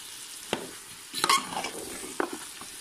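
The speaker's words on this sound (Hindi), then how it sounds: "अब अच्छे से मिक्स कर दूंगी" A spoon stirs chilli and turmeric into Afghani chicken korma in a pan, with a few short scraping strokes over a faint background sizzle, close up and with no voices.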